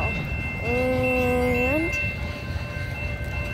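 A passing CSX freight train sounds a long, steady horn blast that bends in pitch as it ends, over the continuous rumble of rolling railcars, with a brief spoken word.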